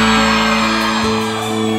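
Loud cheering and shouting from women in a concert crowd at a live regional Mexican music show in Malinaltepec, a dense sustained roar of voices that fills the whole moment under ringing music.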